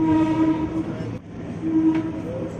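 KRL commuter train pulling into track 6 at Manggarai station, a continuous loud rumble of wheels and carriages with a steady tonal hum fading briefly mid-way before returning.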